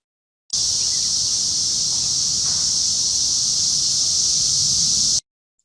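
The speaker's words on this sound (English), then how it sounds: "And then I can listen to what a cicada sounds like." A cicada's loud, steady, high-pitched buzzing drone, played alone, starting abruptly and holding unbroken for about five seconds before cutting off.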